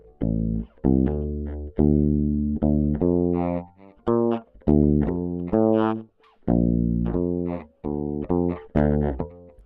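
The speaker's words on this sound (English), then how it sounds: "let's see if we got a good bass sound here" A bass guitar plays a bouncy melodic line of short plucked notes with brief gaps, processed with a slightly chorused, gritty tone.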